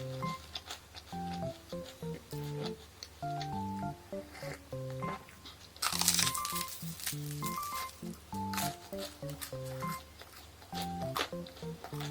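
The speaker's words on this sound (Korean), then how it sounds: "겉에가 엄청 바삭바삭하네" Crisp bites and chewing of a plain Sadler's House croffle with a thick, crunchy sugar coating, heard close up as a series of crackling crunches with short pauses between them.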